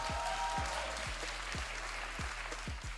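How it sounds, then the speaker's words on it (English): A studio audience at a 2024 LCK Summer Split esports broadcast applauds steadily, a dense wash of clapping with a low rhythmic thump repeating about twice per second, continuous and fairly close. "Please give them a warm round of applause."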